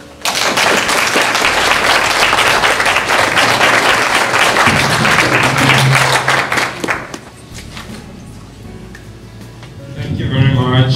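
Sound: audience applause welcoming speaker Mark Mathabane

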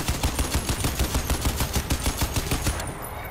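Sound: gunfire emptying a weapon in the video game Crysis 2

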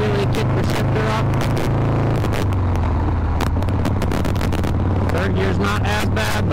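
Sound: vintage Harley Shovelhead motorcycle engine running

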